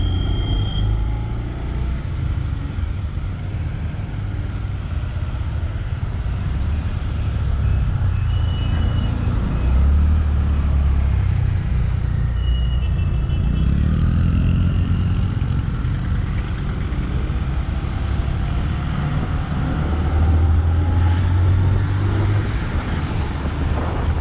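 KSRTC buses and other traffic pass on the NH 66 road between Ponnani and Kuttipuram while road work is underway, a continuous loud engine rumble with vehicles swelling past nearby, no talk.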